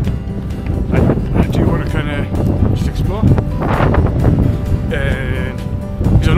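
Wind gusts across the microphone on an exposed hiking crag at Shaftoe Crag, Northumberland, a loud continuous buffeting roar that fills the whole stretch, with a person speaking over it.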